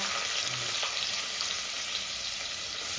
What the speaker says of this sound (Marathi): तेल चांगलं तापले. कांदा